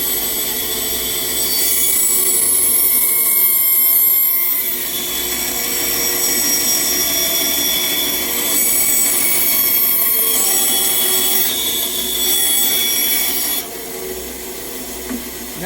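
A saw cuts through wood while a bench hook is made in a school wood shop, giving a steady, rasping, grinding noise that runs for several seconds with a few brief dips, close and loud, with no talking.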